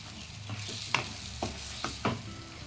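Raw jackfruit being sautéed in a pan for echor chingri, a soft sizzle with several distinct scrapes of a spatula stirring the pieces, close and clear with no voices.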